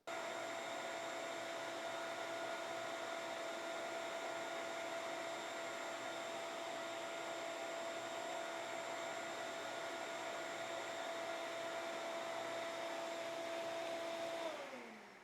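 A workshop dust collection vacuum runs steadily during an airflow test, a loud constant whine and rushing drone with a fixed tonal hum that winds down at the very end, no voices.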